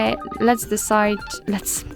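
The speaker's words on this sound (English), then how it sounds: "in order to listen how the particular ringtone sounds, you have to simply tap on it" A ringtone on a Realme 12X phone plays a short melodic sequence of bright tones, fairly close and clear.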